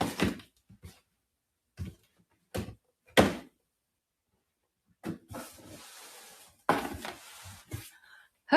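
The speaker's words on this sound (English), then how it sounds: "Knocking things over." Objects being knocked over indoors during a wig styling livestream, a scattered series of sharp thumps and clatters separated by silence, with a short rustling stretch near the end.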